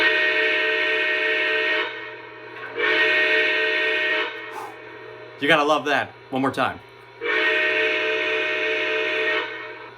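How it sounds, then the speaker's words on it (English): A Lionel modern model steam engine sounds its steam whistle in three long, loud, steady blasts, with someone speaking in the gap between the second and third. "So when I hit the whistle, we're going to see that smoke effect go out of the back."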